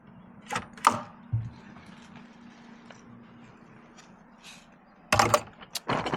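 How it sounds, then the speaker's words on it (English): A weighted gate latch with a nylon-coated wire drops shut in sharp, close clacks: a pair of knocks early, a softer thud, then a quiet stretch before a final cluster of loud clatters. "this is a weighted latch, so no matter what, it's going to fall back down"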